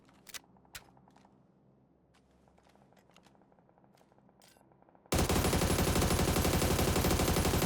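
Sparse, faint single shots and clicks give way to a sudden loud, continuous burst of rapid SMG fire in PUBG, the automatic gunfire dense and sustained to the end.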